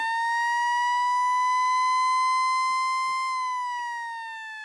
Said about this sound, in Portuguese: Solta a sirene, solta a sirene, solta a sirene sirene no ar.